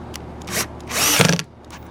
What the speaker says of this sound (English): And then I'm going to screw that in